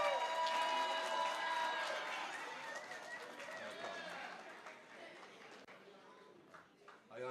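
An audience at a Friday morning school meeting cheers, whoops and shouts to welcome presenters to the front, a mixed crowd roar that gradually fades and thins out.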